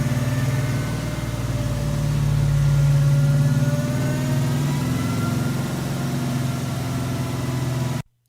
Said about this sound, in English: You hear a big supercharger whining like crazy.